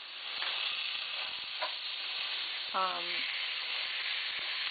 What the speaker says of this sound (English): hamburger meat is beginning to brown on the bottom